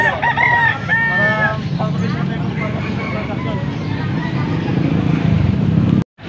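A rooster crows loudly and nearby in the opening seconds at a poultry auction in Pampanga, amid chatter and an engine drone, with other clucking birds and voices continuing after.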